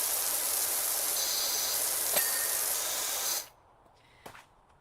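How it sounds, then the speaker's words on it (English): A pressure washer sprays in the video game PowerWash Simulator, giving a steady loud hiss that cuts off abruptly near the end, followed by a brief faint spurt. "I love how the spray sort of bounces off as well."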